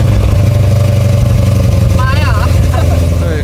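A Corvette LS3 6.2-liter naturally aspirated V8, upgraded to 600 horsepower, runs loud and close with a heavy, steady throbbing burble, and a voice speaks over it near the end.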